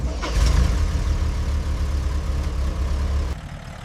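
The engine of a restored 1985 Mercedes-Benz 280 GE G-Wagon idles with a steady, dense low rumble, close and unbroken, dropping slightly in level near the end.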